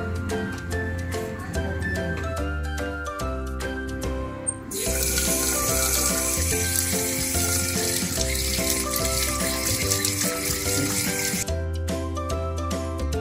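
Water runs steadily from a tap over hands being wetted at a sink, a continuous hiss that rises and fills out midway, with soft rubbing and background music throughout.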